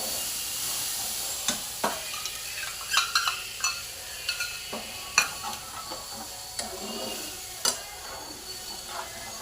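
Mustard and poppy seed paste fries in a pan for pabda fish curry, a soft continuous sizzle broken by a scattering of sharp clicks and taps from the spoon against the pan.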